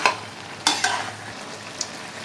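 Boiled ridge gourd and potato are stirred in a pan for a poppy-seed dish, giving a few close scraping clinks and soft stirring scrapes over a quiet hiss.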